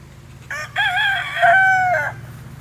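A farm rooster with an overgrown, drooping beak crows once, loud and close, a rising then sustained call of about a second and a half over a low background hum.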